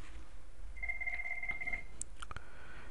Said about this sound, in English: I'm going to let it ring.